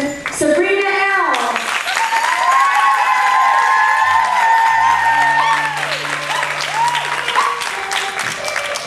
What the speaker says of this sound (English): With a warm round of applause, please welcome our first contestant, Subrina L.